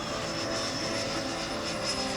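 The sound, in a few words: AeroFoam L-39 Albatros 105mm EDF RC jet flying at half throttle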